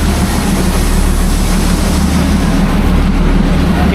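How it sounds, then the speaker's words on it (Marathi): Matheran hill train rolling on the Neral–Matheran line in heavy rain, a steady loud low rumble of wheels and engine that runs unbroken throughout with no voices. "ही ट्रेन पूर्ण ना माथेरान फिरवता."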